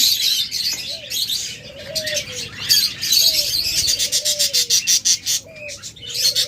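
Pet budgerigars, cockatiels and albino lovebird pairs in cages at a bird sale chirp and call close by, with repeated bright tweets, rhythmic chatter bursts and soft coo-like whistles layered together.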